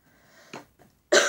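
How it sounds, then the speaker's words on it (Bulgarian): Two short, rough coughs from a person with the flu, the second louder and sharper, separated by a quiet pause with faint background hum. "Ако ме чувате, че кашлям, просто е малко гаден това грип"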